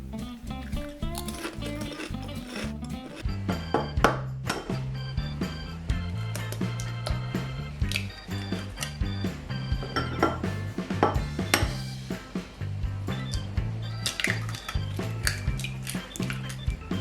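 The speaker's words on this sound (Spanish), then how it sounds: "Comenzamos batiendo 4 huevos tamaño L dentro de un bol." Four large eggs being whisked in a bowl: rapid, rhythmic clinking and tapping of utensil against the bowl continues steadily throughout, close and moderately loud, without voices.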